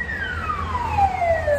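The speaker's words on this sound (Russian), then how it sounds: "Скорая помощь, реанимация поехала." An ambulance siren from a resuscitation unit passing by in a city, its steady wailing tone sliding lower in pitch as it goes past, loud and clear over a low traffic rumble, with no talk.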